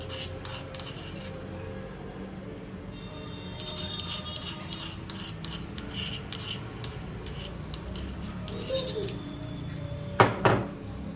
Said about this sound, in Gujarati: અને પ્રોપરલી બધું મિક્સઅપ કરી દઈશું